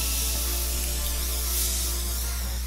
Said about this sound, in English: I'm going to set my face with the Morphe Prep and Set Setting Spray.